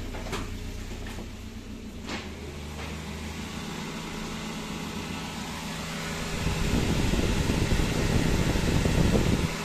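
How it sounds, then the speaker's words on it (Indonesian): The radiator fan of a Daihatsu Gran Max running as its engine idles, a steady whirring hum with a few light knocks early on, swelling into a louder, rougher drone partway through. "kipas nyala."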